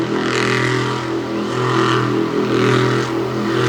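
A monster truck engine revs loud and steady as the truck cuts a donut in dry clay at the center of a race track in Lima, Ohio, a close, continuous engine roar with rising and falling throttle over the whole stretch.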